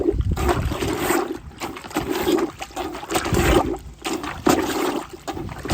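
Water sloshes in an off-grid plunger clothes washing bucket with shirts inside, giving rhythmic, close surges and splashes as the plunger pushes water in and out through the holes.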